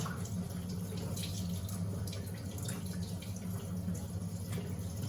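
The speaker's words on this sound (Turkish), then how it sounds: "Şimdi ellerimizi yıkayalım anneciğim." Running water from a kitchen tap splashes steadily into a sink as hands are washed, a faint, continuous wash with a few brighter splashes and drips.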